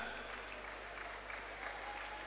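An audience at a conference award night applauds, a faint, distant and steady patter of clapping over a low electrical hum.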